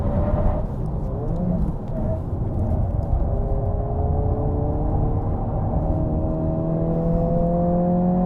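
A US-spec Honda Civic Si with Spoon customization accelerating, a steady loud engine drone with tones rising smoothly through the revs, heard continuously from inside the car.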